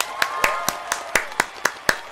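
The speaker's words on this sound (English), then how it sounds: "I don't know why I'm clapping." One person claps about ten times in a steady, fairly quick rhythm, each sharp clap close and distinct, with a faint tone sounding behind the claps.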